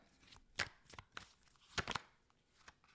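A deck of tarot cards shuffled during a reading: several sharp, crisp riffling and slapping bursts at irregular intervals, close and clear with quiet gaps between and no talk.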